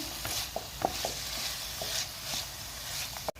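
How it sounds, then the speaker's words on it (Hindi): Cabbage being stirred in a hot pan with a spoon, giving a steady soft sizzle broken by a string of short scraping strokes, close and fairly quiet, with no voices. "अब हम इसमें डालेंगे बंद गोभी और अच्छी तरह से इसको हिलाएंगे"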